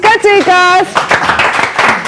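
Brief burst of audience clapping for a clarinet player on a Greek television music show, starting right after a voice announces a name and lasting about a second.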